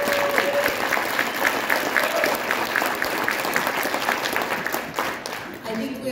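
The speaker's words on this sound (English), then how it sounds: "Can you guys give them a round of applause for me?" An audience at an International Sports Hall of Fame induction gives a steady, full round of applause for the inductee's family, a dense wash of clapping with murmuring crowd noise underneath.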